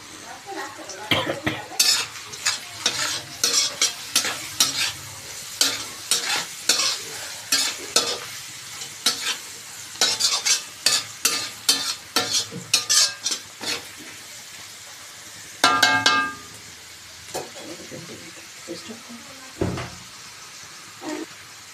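Fried rice made with 1.5 kg of rice, fried and stirred in a pan alongside chilli chicken cooking: a steady sizzle broken by a long series of quick, sharp scraping and clanking strokes, fairly close, with no voices.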